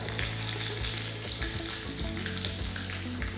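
Mustard seeds and chopped shallots frying in coconut oil for a Kerala chicken mappas, a steady close sizzle with small popping crackles and occasional stirring, no voices.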